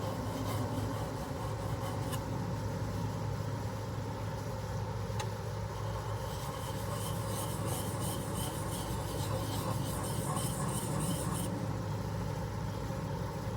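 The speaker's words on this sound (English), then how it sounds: "I'm going to hone this again, sharpen this again to a burr" A No 6 plane blade is honed to a burr, giving a continuous gritty rubbing rasp of steel on a sharpening stone, steady and fairly close, with faint clicks and no talk.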